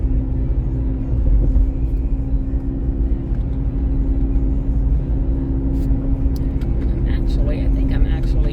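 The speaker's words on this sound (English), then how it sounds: "I think the tires make a little bit of noise on the road" Steady low tire roar and road rumble heard from inside a 2010 Jeep Grand Cherokee while driving, a constant droning hum with someone talking over it.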